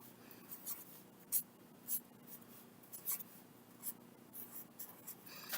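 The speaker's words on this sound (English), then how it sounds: "I'm going to go ahead and write bottom on that" Faint, close scratching of a pen writing a label on a paper box net, with short irregular strokes over a quiet room.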